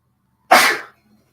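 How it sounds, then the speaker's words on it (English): One short, sharp human sneeze, loud and close, bursting out of silence and fading within half a second. "I have to sneeze, pardon me."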